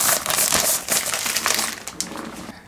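Plastic wrapping from an Honor Magic Pad 2 tablet box being handled: loud, close, continuous crinkling and crackling that eases off toward the end, with no speech over it.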